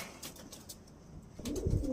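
Andhra pigeons coo in a loft, a low, throaty coo rising near the end after quieter rustling and faint soft calls, close and fairly clear.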